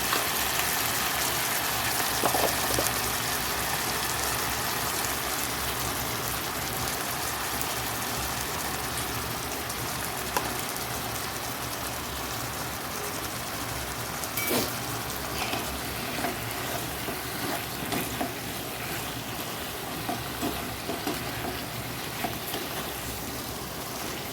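Cumin seeds sizzle in hot oil at the start of a gati kochu (taro) curry, a loud, dense, steady frying hiss that runs unbroken throughout, close by and with no talking.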